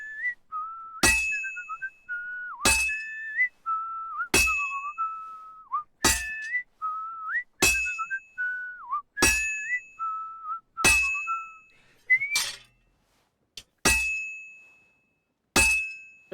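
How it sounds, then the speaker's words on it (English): A character in Kingdom Come: Deliverance II whistles a short, wavering tune again and again, each phrase broken by a sharp metallic clang of the same strike. The two sounds alternate steadily, both loud and close. "Really wish you could turn off the whistling"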